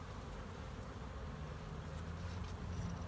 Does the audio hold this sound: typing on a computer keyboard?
no